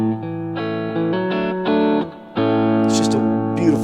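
Electric guitar played with a light touch through a BOSS GT-100 amp model, warm clean sustained chords changing every half second or so, fairly loud and alone, with a brief bright pick scrape near the end.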